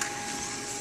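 A Samsung ML1640 mono laser printer whirs steadily as its mechanism runs to release jammed paper, a close, even mechanical hum with a thin high whine and no voices.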